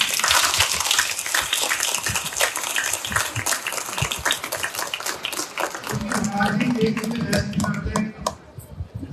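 Crowd at a Radhaashtami temple festival program in Inderpuri, New Delhi claps loudly and densely for several seconds, then the applause thins and fades as voices and music take over near the end.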